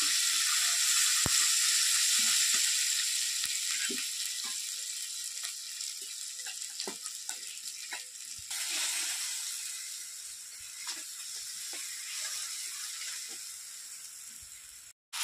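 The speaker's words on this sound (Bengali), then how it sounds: "মশলাটা ভাজা হয়ে গেছে, তেলটা শুরু করে দিয়েছে।" Spice paste sizzles steadily in hot oil for a bottle gourd and prawn curry, a continuous close hiss with occasional faint clicks and no talking.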